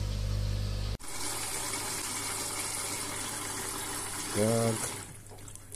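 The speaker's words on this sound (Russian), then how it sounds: "заливаем перекись" Hydrogen peroxide poured into a washing machine, a steady liquid gushing and hissing close by after a short spoken word, with a brief tonal squeak near the end.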